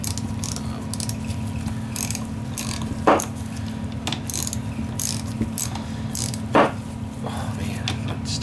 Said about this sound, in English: you take a 3/8, loosen these up